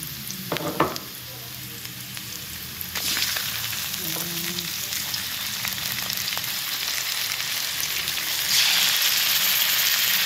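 Chicken tinola being stirred in a pot: a continuous close sizzle with scraping spoon strokes and soft clinks against the pot, the bubbling rising louder near the end, no talking.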